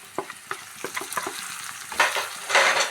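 Turmeric, coriander and chilli powders stir-frying in hot oil for an eggplant curry, a busy sizzle with repeated scraping stir strokes close up, no voices.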